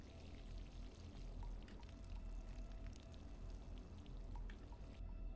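Water pours steadily into a container in a spooky video game, a continuous close splashing stream with small drips that runs unbroken for several seconds.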